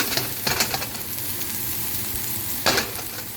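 Chopped onion sizzles and fries in a hot pan for egg fried rice, a steady crackling hiss with a few louder bursts of stirring near the start and again near the end.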